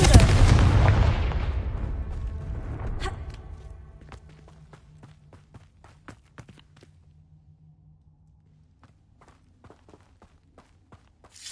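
In Hogwarts Legacy, a Confringo fire curse spell bursts with a loud fiery blast. It rolls into a long, fading rumble, and sparse footsteps and small impacts follow in the quiet.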